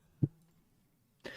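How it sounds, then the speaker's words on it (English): A single short cough near the start, then a brief burst of broadband noise at the end; otherwise quiet. "Sorry if I'm coughing."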